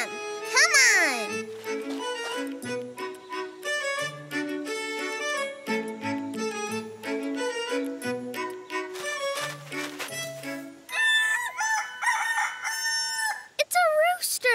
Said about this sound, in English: Roosters are male chickens that like to crow loudly.